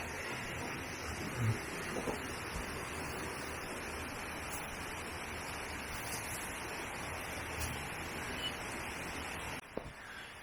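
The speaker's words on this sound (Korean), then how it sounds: "개울가에로 나와봤습니다." A mountain stream in the Jomurakgol valley, Gapyeong, rushes steadily close by, a continuous broad wash of flowing water with a brief knock near the end and no talking.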